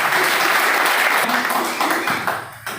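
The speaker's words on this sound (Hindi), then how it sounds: "एक बार जो है शानदार, खतरनाक, जबरदस्त ताली होनी चाहिए" Loud, sustained applause from an audience at a royalty achiever celebration function, dense clapping filling the whole stretch and tapering slightly toward the end, with some voices mixed in.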